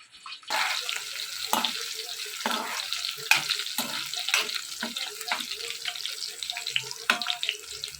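Green chillies added to cumin seeds sizzle in hot oil in a pan, starting with a sudden burst of frying hiss, then a continuous crackle broken by sharp clinks and pops.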